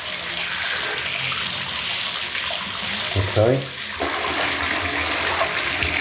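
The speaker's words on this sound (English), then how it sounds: "we get a little bit of water in there, get it up to a certain height." Water running into a newly plumbed bath, flowing down through the waste and trap pipework during a pressure test, a steady broadband rush throughout with a brief gurgle midway and a short spoken word.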